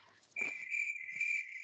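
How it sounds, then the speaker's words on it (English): A crickets-chirping sound effect: a thin, steady high trill that starts abruptly and holds for about a second and a half, faint against a quiet background with a couple of soft taps. "Oh, the crickets."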